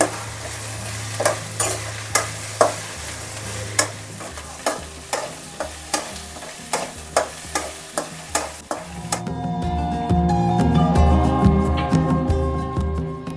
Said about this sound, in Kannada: ಇವಾಗ ಬೆಂಡೆಕಾಯಿ ಹಾಕ್ಕೊಳ್ತಾ ಇದ್ದೀನಿ ಸ್ವಲ್ಪ ಬೆಂಡೆಕಾಯಿ ಎಲ್ಲ ಚೆನ್ನಾಗಿ ಫ್ರೈ ಆಗಲಿ